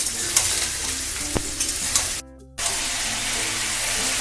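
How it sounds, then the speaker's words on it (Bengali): Potato and ridge gourd pieces fry in a pan with a continuous close sizzle and stirring scrapes, interrupted by a brief silent gap before the crackling hiss resumes. "আলু আর ঝিঙেটাকে আর একটু ভালো করে ভাজবো।"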